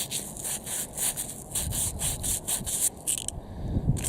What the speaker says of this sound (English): So what I'll do is I'll just very lightly sand off all the rust.